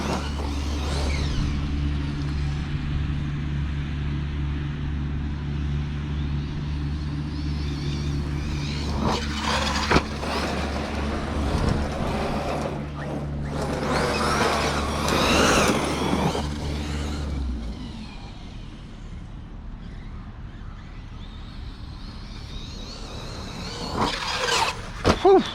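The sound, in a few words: Arrma Fireteam RC car with Hobbywing Max 8 motor driving on grass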